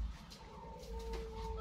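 A zebra dove (perkutut) coos softly in a short, even, rising call over low background rumble, with no voice over it.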